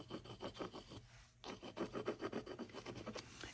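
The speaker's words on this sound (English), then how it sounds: "But I will scrape through just a little bit." A tool scrapes through thick paint on a mixed media page in quick rhythmic strokes, a dry rasping scratch repeated about a dozen times with a brief pause near the middle, close and quiet.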